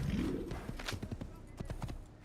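Horse hooves clip-clop in a steady, fairly close rhythm in the Assassin's Creed video game, with a brief whinny and game ambience around them.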